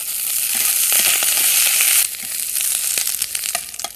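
Green beans blistering in a very hot pan, a loud, steady sizzle that drops slightly as they are stirred, with scraping and crackling bursts over the final two seconds.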